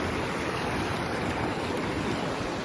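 Steady, full-band rush of freezing cold water while someone wades through it toward an island, a constant close wash and splash with no pauses and no voices.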